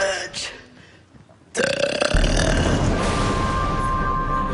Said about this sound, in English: Can you say Paranormal Challenge in a burp?